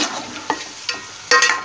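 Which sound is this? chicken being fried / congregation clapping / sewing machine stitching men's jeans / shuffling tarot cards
chicken being fried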